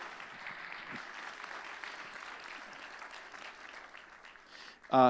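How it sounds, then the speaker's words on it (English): Audience applause at the 2024 Children's Aid Benefit, a moderate, steady patter of clapping from a crowd that fades toward the end before a sudden loud sound cuts in. "Round of applause for all you"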